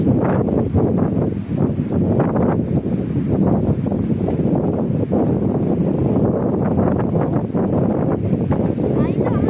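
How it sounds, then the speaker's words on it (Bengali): Strong stormy wind roars steadily across the microphone, buffeting and rushing through tossing leaves in loud continuous gusts. "বাতাস বাতাস, এই যে পাতাগুলো তো সুন্দর নড়াচড়া করতেছে ঝড়ের মতো, ঝড় মনে হচ্ছে ঝড় হচ্ছে"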